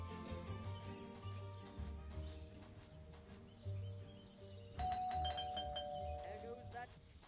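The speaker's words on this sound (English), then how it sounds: "There goes that stupid bell again." Doorbell chiming in the mobile video game Scary Teacher 3D, a bright ding-dong tone rising over quiet ambient game sound with a low hum underneath, faint at first and clearer near the end.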